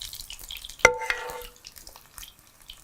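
A samosa coated with potato starch fries crisply in hot oil, with a sharp clink and then a brief burst of close sizzling and crackling that quickly fades to a soft hiss, no voices.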